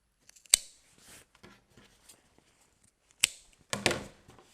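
Scissors snip away loose threads and stray bits of fabric while making bunting, a few sharp close cuts spaced apart with a quick double snip near the end, in a quiet room with no talking.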